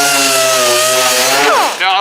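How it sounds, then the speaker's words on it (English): A dual-action (DA) orbital sander grinds liquid nail adhesive and primer off a surface, a loud steady whine holding its pitch for about a second and a half before the note shifts and sweeps upward as the speed changes. "So we're going to take our DA sander, and I'm going to go ahead and get rid of that liquid nail first"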